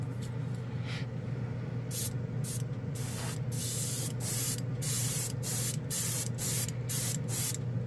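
Gaahleri airbrush spraying Vallejo Model Air acrylic paint through a large needle, a close steady hiss of compressed air broken by repeated short, louder bursts as the trigger is pulled.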